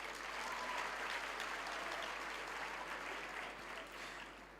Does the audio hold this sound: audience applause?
yes